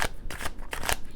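Tarot cards shuffled up close, a quick series of crisp riffling bursts in rapid rhythm, fairly loud and continuous with no talking.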